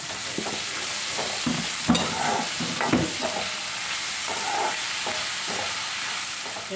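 Onions, green chilli and ginger sauté in a pan on a stove with salt, a soft continuous sizzle under repeated scraping stirs of a spoon against the pan, fairly quiet and close.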